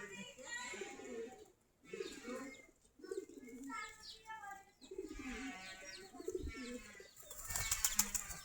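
Desi Giribaz pigeons feeding on coarse rice give repeated low coos, with bursts of wing flapping near the end, close by under intermittent talking.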